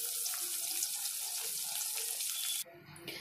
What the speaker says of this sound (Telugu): సరిపడా నీళ్లు పోసుకున్నాను